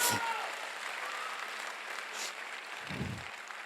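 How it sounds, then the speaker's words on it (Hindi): Faint, steady clapping from an audience at a stage event for AWPL network-marketing leaders, heard from a distance as a soft continuous patter with a brief low thump near the end. "जोरदार तालियां होनी चाहिए।"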